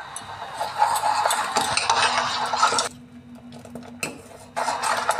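A spoon scrapes and stirs milk curdling with vinegar in a metal pan for cham cham sweets, producing close, irregular clinks and swishes with a brief pause in the middle.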